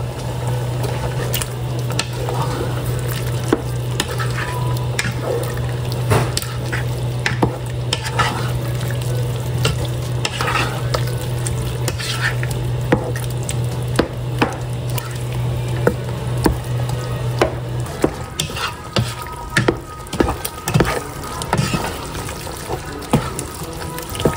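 Ginataang langka, jackfruit simmering in coconut milk, being stirred in a pan, a steady bubbling sizzle with repeated scraping and squishing strokes running throughout, and a low hum that drops out near the end.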